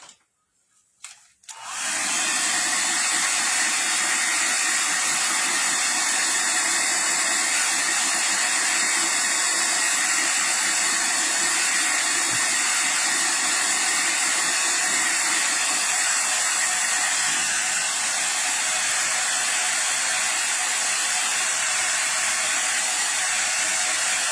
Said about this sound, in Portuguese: Aqui eu vou ter que secar um pouco com o secador